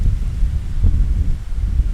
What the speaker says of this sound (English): you can still hear the fucking wind